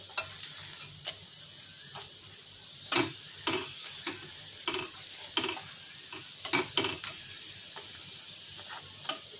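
A Bengali-style Mughlai paratha, an egg-filled flatbread, frying in a pan, with a quiet, steady sizzle and scattered clacks and scrapes from a spatula as it is turned. There is no talking.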